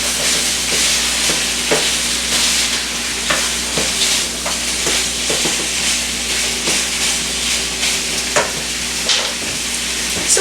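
Chicken pieces brown in a single pot for Cajun chicken Alfredo, giving a loud, continuous frying sizzle and hiss with repeated scraping stirs and light clinks throughout.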